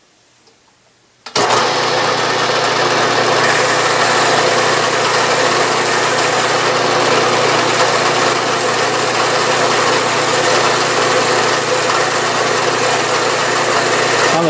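A metal lathe starts up for a boring cut with a carbide-tipped single-point tool on a steam engine part, then holds a loud, steady, even machine hum and whine throughout with no speech.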